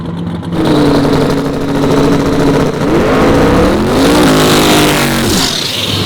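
Drag race cars on small radial tires launching down the track, a loud sustained engine roar that climbs in pitch through several gear changes, close and continuous, with no talking.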